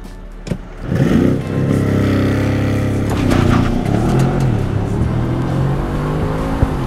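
An Audi S6 with a Unitronic Stage 2 transmission tune launches hard from a standstill using launch control, the engine note surging loud and close with a rising, sustained pull and no talking.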